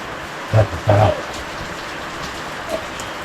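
Heavy rain pours onto the roof of a house under construction, a steady even hiss throughout, broken early by a couple of short voice sounds.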